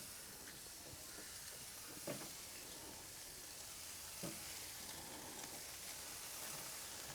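Salted and peppered burger patties sizzle steadily on an oiled griddle, a continuous broad hiss of frying with a couple of brief louder pops, close and without talk.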